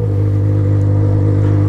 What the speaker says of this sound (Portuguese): Olha o barulho dessa moto.